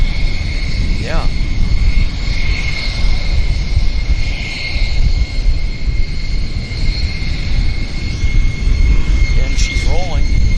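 A WestJet Boeing 737-800 bound for Cabo begins its takeoff roll at Vancouver airport, heard as a sustained loud jet roar with a steady high whine and faint voices underneath.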